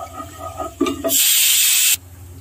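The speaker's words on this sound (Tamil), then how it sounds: "ஸோ இப்போ நம்ம ஆனியன் பேஸ்ட்டு, வெங்காயம் பேஸ்ட்டு இதை ஆட் பண்ணிக்கலாம்." Onion paste tipped into a pan of sizzling roasted whole spices for a Mysore-style chicken biryani bursts into a loud, steady hiss lasting about a second, after a few soft stirring scrapes.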